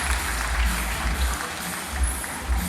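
Audience at a sea lion show applauding, dense crowd clapping that carries steadily from start to finish, fairly loud with a low rumble underneath.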